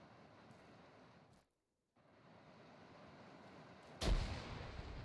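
A grenade blows up in a World War 2 video game, a sudden loud boom with a rumbling tail that follows an ambient wind-like background and a short silent gap, with no talking.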